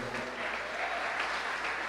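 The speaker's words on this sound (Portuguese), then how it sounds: "Vamos aplaudir o Senhor." A church congregation applauds steadily during a service, a dense, continuous wash of clapping that holds at an even level for about two seconds with no voice over it.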